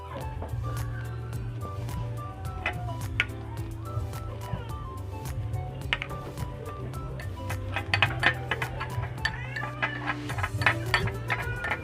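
A metal spoon clinks repeatedly against a cup while creamer is stirred into coffee, a close, steady run of bright taps and rattles with a low hum beneath.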